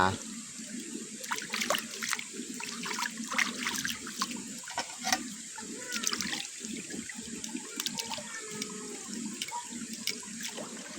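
Tap water runs into a sink while vegetables and fish are rinsed by hand in an outdoor rural kitchen, a steady splashing stream with intermittent clatter and a voice speaking faintly underneath.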